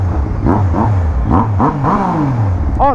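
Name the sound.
Niken Turbo motorcycle accelerating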